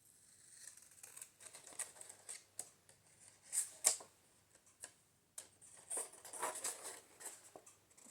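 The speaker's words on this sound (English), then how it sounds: "now I'm going to cut, like I said, all the way down here to my pocket with my scissors" Scissors snipping through kraft-colored cardstock at close range, a quiet series of crisp ticking cuts in uneven bursts, with a few sharper clicks in between.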